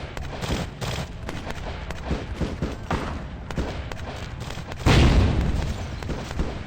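Video game explosion in Vampire: The Masquerade - Bloodlines: a dense barrage of sharp bangs and crackles ends in one loud, low blast that rumbles and fades over a couple of seconds.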